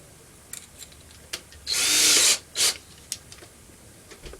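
A power drill fitted with a small pin drill bit whirs in one short burst of about half a second, then a brief second burst, amid scattered faint clicks and handling taps.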